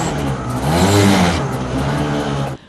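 A custom motorcycle engine at a biker show in St. Petersburg revs loudly and close, its pitch rising to a peak mid-clip and then holding at a steady growl before cutting off abruptly near the end.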